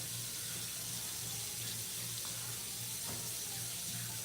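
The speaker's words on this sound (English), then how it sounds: "I've been running the water because my water takes, I don't know why, it takes a hot minute to get warm at all" Bathroom tap left running into a sink while waiting for hot water, a steady hiss of flowing water with a faint low hum underneath, constant and fairly quiet.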